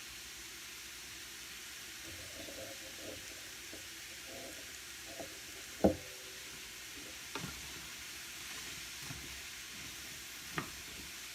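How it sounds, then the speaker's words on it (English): Zucchini and cauliflower drop into a hot pan for lentil stew, bringing a quiet steady sizzle, with a louder clatter of vegetables landing midway and a few soft clinks and scrapes afterward. "And now I'm going to add the zucchini and the cauliflower"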